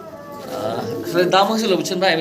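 Pigeons coo at a fancy pigeon sale while someone talks over them, the soft low cooing partly masked by the nearby voice.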